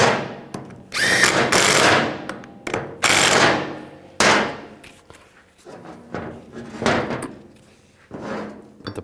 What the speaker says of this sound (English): Put the bolts in. And snug those down.